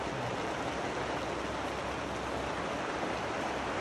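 Dense, continuous hiss of steady rain, loud and even throughout, with no voices or other distinct sounds.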